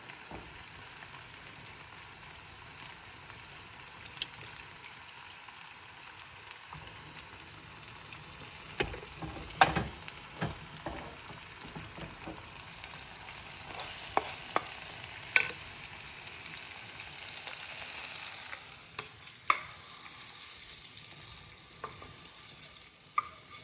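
Tofu frying in oil in a pan gives a steady, soft sizzle, with sharp utensil clicks and scrapes scattered through the middle and near the end.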